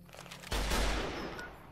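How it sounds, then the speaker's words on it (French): Rifle fire from an NCR rifle in the video game Fallout New Vegas: one loud blast about halfway through with a long rumbling tail, following a brief quieter stretch. "c'est un fusil de la RNC"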